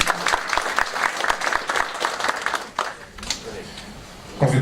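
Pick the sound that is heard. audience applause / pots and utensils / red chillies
audience applause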